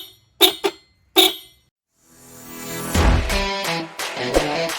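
A Bosch FC2 horn on a Yamaha Aerox scooter blares in three short sharp honks, followed by a louder, longer sustained blast with rough, wavering pitch.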